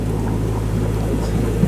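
Steady low engine drone of a sailing boat motoring at sea toward Sicily, a constant rumble with wind and water noise, close and unchanging.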